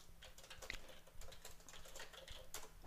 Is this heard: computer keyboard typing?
yes